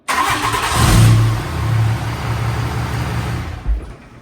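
A lifted golf cart's engine cranks and catches after a jump start, revving loudly for a moment before settling into a steady idle, with a brief burst near the end.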